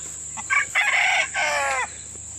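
Rooster crowing on a farm, a single close, clear cock-a-doodle-doo in several rising and falling segments over a faint, steady hum.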